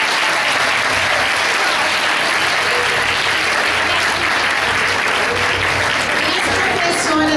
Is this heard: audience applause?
yes